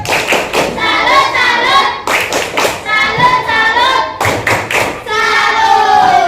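A classroom of students performs a rhythmic clapping cheer during a group activity, sharp hand claps in repeated bursts mixed with loud chanting children's voices, close and filling the room.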